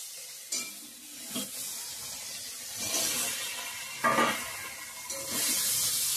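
Soybean chunks fry in a pan over tempered spices, giving a soft sizzle with a few louder bursts of stirring and scraping, faint and close, with no talking.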